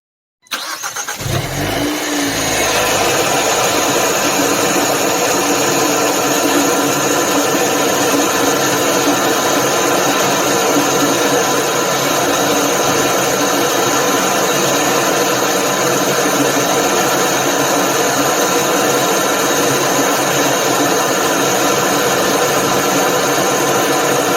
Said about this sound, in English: This is a cold start on the Veloster N.